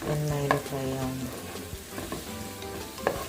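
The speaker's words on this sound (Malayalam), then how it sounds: "എണ്ണയിൽ ഫ്രൈ ആവുന്നു." Ginger fries in hot oil for a Kerala gooseberry pickle, giving a steady close sizzle with a few scraping stirs of the spoon against the pan and no talk.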